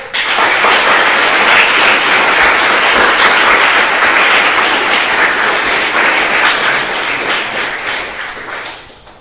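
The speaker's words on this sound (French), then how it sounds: "je vous demande d'acclamer Maître Romain Giraud" Sustained audience applause fills a university debate hall at the Sorbonne versus Aix-Marseille University contest, dense and steady for several seconds before thinning and fading out at the end.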